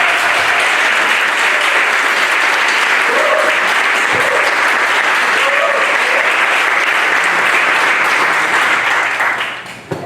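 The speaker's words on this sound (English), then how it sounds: "give a round of applause to Dr." A symposium audience gives loud, sustained applause on the Gullah/Geechee lineage as a doctor is introduced. The clapping stays full and even for about ten seconds, then fades out abruptly at the end.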